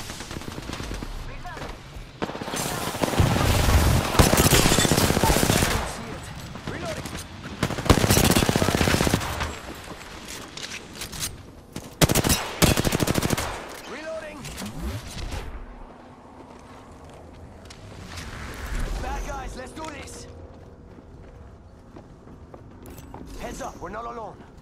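Gunfire aimed at the player in Apex Legends, with loud bursts of automatic fire and shots in several clusters, separated by quieter stretches of mechanical clicks and movement sounds.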